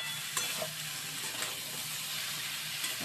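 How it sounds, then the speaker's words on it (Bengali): Shrimp and cauliflower sautéed in spices in a pan give off a steady sizzle with scraping stirring strokes, close and fairly quiet. "একসাথেই দিয়ে দিলাম ফুলকপি আর চিংড়ি মাছ, ব্যাস এবার ভালো করে চিংড়ি মাছ আর ফুলকপিটা কষিয়ে নেব"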